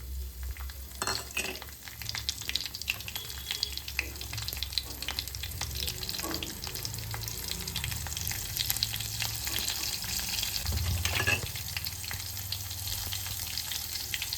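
Chilies, curry leaves and garlic sizzle and crackle steadily in hot oil for a dhaba-style dal fry tempering, a close, continuous frying hiss with occasional stirring and spoon scrapes, no voices.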